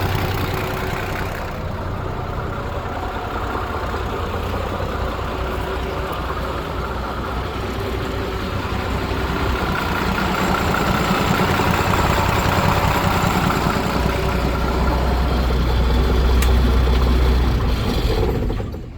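The engine of a 1965 White Compact 1500 truck idles close by, a steady, even rumble that holds for about nineteen seconds and swells slightly louder toward the end before cutting off, with no voices.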